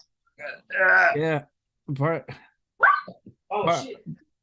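A dog gives several sharp, close barks in quick bursts separated by short gaps, loud and clear against a quiet room.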